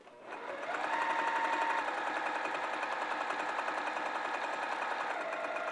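Sewing machine stitching a flannel tunic, running in a steady continuous whir that starts after a brief pause and holds at an even, close, fairly loud level, with a slight pitch drop near the end as the needle pivots.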